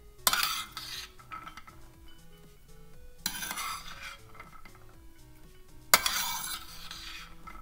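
Small clinks and light scraping as ripe pomegranate seeds are tipped from a dish into a little bowl, three brighter bursts of clatter spaced a few seconds apart over a quiet background, with no talking.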